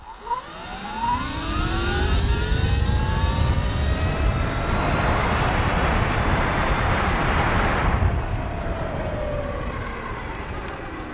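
A Surron Light Bee 72V electric motorbike with a BAC 4000 controller accelerates at full throttle, its motor whine sweeping upward in rising tones over loud rushing wind noise that stays strong for several seconds before easing.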